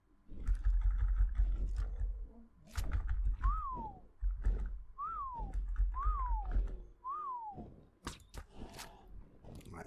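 A whistle command in the video game Ark sounds four times at a steady pace. Each is a short, clear rising-then-falling tone over low rumbling game noise and scattered clicks.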